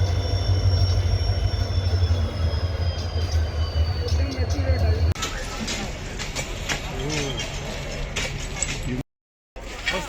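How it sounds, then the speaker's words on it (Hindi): A train rolls over the newly built Rani Bazar railway underpass in Bikaner, rumbling and rattling close by with squealing wheels, while voices chatter in the background and the sound cuts out briefly near the end. "ये रानी बाजार का अंडरपास पहली बार बना है और इसकी पहली ट्रेन निकल रही है"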